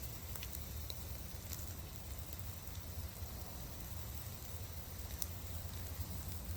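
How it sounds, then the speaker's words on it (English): Soft, steady crackling and sizzling of tri-tip over a fire on an offset smoker or Weber kettle, a faint continuous hiss with occasional pops. "Can you hear the sizzle?"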